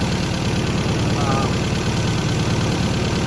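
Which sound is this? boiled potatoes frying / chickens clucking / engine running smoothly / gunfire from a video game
engine running smoothly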